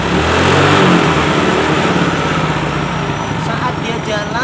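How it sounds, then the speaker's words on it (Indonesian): A Yamaha Mio J fuel-injected scooter engine runs close by with a steady idle and slight throttle variation, its fault making it stall when ridden; no speech over the loud mechanical drone. "Motornya hidup aja, motornya hidup, cuman dia kalau dibawa jalan mati."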